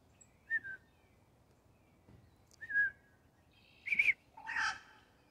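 A person whistles an imitation of a whippoorwill call, short rising-falling whistled phrases repeated several times with pauses, close and fairly clear over a quiet background.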